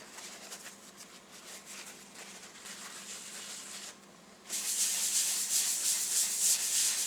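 Abrasive paste pressed against cherry wood spinning on a lathe gives a continuous close hiss that turns brighter and louder partway through.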